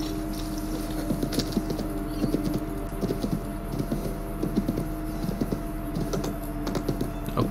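Steady clip-clop of horse hooves at a trotting rhythm in the video game Assassin's Creed Brotherhood, close and moderately loud over a faint background hum, with no voices.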